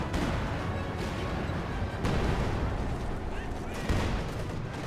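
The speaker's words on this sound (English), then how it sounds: "Is the Zis gun force firing the ground?" Rumbling ZiS gun artillery barrage in Company of Heroes 2, a continuous dense roar of explosions with a few stronger booms, heard under an ongoing commentator's voice.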